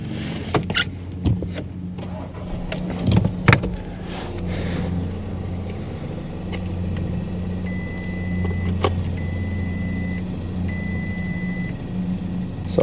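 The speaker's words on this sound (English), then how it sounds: "Let me actually start the vehicle." A Volkswagen with ABS, ESP and steering warning lights on the dash cranks and fires up, then settles into a steady, close low idle rumble with a few faint electronic beeps later on.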